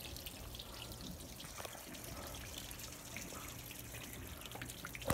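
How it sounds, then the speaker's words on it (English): Water drains steadily from the hoses of a Mercruiser boat engine block's one-point drain system, a faint continuous trickle and splash running alone. "it'll just sit here and drain until it's done"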